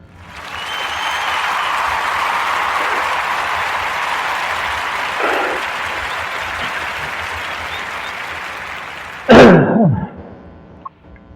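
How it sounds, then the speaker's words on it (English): Sustained audience applause fills most of the stretch at a steady, moderate level, tapering off with a brief louder clunk near the end. "Round of applause for Mr. Kelvin Doe."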